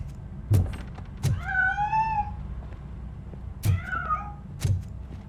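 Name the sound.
cat escaping through a narrow passage, video game Robocop: Rogue City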